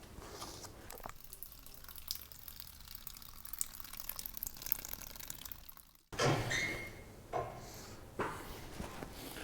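Seed compost in a seed tray being watered before sowing: soft, uneven water noise for several seconds, then a few closer, sharper splashes and pours after a brief pause.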